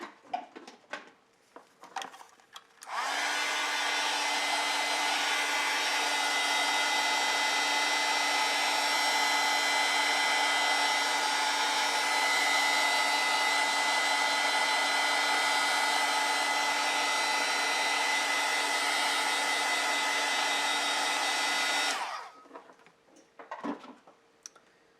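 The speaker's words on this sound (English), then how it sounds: "I want this to be fairly dry, so I'm going to dry this" A hair dryer runs steadily for about twenty seconds to dry a watercolor painting, a loud, even whirring blow that starts and stops abruptly, with faint handling noises before and after.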